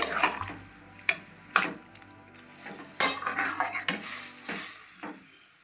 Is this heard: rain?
no